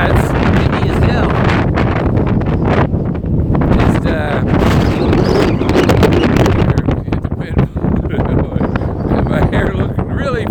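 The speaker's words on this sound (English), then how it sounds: "Yeah, it's windy as hell." Strong gusts of about 56 mph buffet a microphone outdoors, a loud, continuous roaring rumble that barely lets up for the whole stretch.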